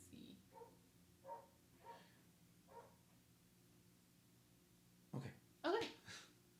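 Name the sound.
upstairs neighbors' dogs stomping and barking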